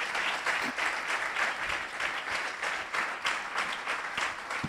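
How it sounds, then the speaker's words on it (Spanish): A church congregation applauds steadily and fairly loud for several seconds, a dense wash of overlapping claps with no voices over it. "Denle un aplauso a Jesús."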